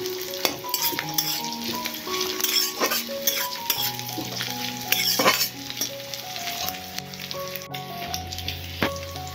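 Onion frying in a pan as the first step of a duck curry: a strong, continuous close sizzle of hot oil with occasional soft stirring and utensil clinks and faint tonal sounds in the background.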